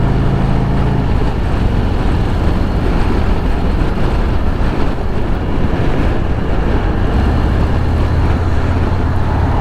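A 2024 Harley-Davidson Road Glide motorcycle engine running around 3,000 RPM on the road in traffic, a loud, continuous low rumble blended with rushing wind noise, steady throughout with no speech.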